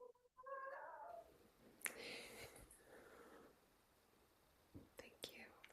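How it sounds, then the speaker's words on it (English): A house cat meows indoors in a short, faint call at the start, followed by soft whispery rustling and a couple of light clicks near the end. "Was that your cat answering me?"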